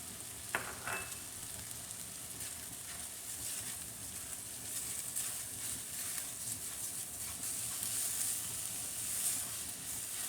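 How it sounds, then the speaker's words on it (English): Seasoned rice frying in a pan over high heat, a loud, even, hissing sizzle held close throughout, with a brief utensil knock near the start and no voices. "You want to cook the rice for about a minute over high heat as well."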